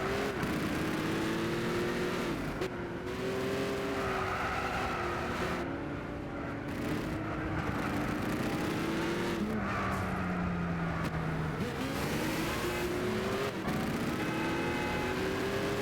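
Racing car engines in Gran Turismo 6 roar continuously at high revs, rising and falling through gear changes with tire squeals and skidding, one car's engine sounding mean close behind, loud and unbroken for the whole stretch.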